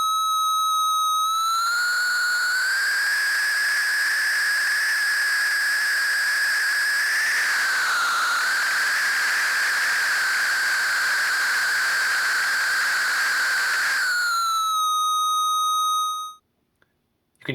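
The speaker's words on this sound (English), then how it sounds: "use this noise and introducing it into the feedback loop in order to disrupt and shape that feedback loop into something that screams a little bit" A no-input mixing board's feedback loop, with routed noise fed back in, produces a loud sustained whistling tone rich in overtones over a broad hiss that bends and wavers midway, then cuts off abruptly near the end.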